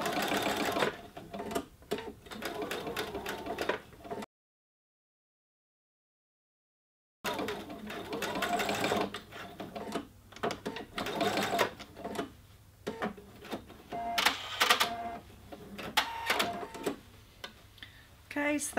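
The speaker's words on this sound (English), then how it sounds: "So I'm just going to stitch this in place with that 1/4 inch seam." A sewing machine runs a quarter-inch seam around the cuff lining of a covered shoulder pad, its rapid mechanical stitching rattling in bursts with a short silent gap partway through.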